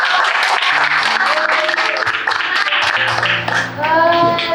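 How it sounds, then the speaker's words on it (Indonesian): Students in a classroom clap together in a sustained, dense round of applause lasting the whole stretch, with some voices mixed in under the clapping. "Oke, berikan aplaus sekali lagi"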